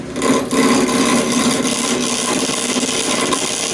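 A gouge cutting a tenon on a steel railroad spike spinning in a lathe for a tomahawk build, a loud continuous grinding scrape with a steady motor hum, close and without talk.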